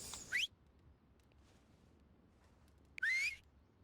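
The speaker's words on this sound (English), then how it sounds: "Whistle." A whistling emote in the video game Vigor: two short rising whistles, one near the start and another about three seconds later, clear and close against near-silence with no talking.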